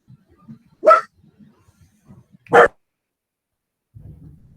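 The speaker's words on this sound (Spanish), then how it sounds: "Hay un perrito por ahí, quiere hacer una pregunta." Two sharp dog barks a second and a half apart, moderately close, followed by a faint low rustle, with no speech over them.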